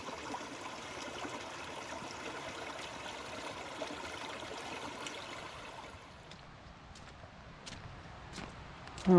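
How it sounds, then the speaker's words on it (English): A fast creek or small waterfall on the Overland Track makes a faint, steady rush of water in the distance. The flow drops off partway through, and a few footsteps crunch near the end. "it sounds like we might be coming down to a bit of a waterfall, or a very fast creek"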